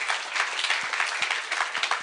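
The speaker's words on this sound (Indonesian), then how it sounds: "Berikan tepuk tangan buat Tuhan kita." Steady applause from a church congregation, dense even clapping filling the room at moderate loudness throughout, with no voices over it.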